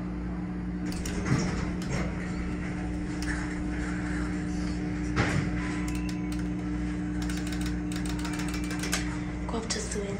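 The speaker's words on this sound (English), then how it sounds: "Actually hear the hydraulics really well." A Dover Impulse hydraulic elevator at a Hampton Inn in York, PA runs with a steady low pump drone and hum, plus occasional mechanical clicks and rattles; no talking is heard over it.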